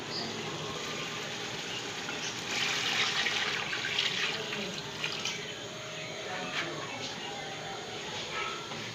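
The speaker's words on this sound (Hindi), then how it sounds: "अब इसमें चावलों का पानी डालना है जिसमें हमारे चावल पूरे गल जाएं।" Water poured into a cooking pot of softened potatoes while making a pulao biryani, a steady splashing pour that rises for a few seconds then continues at a lower level.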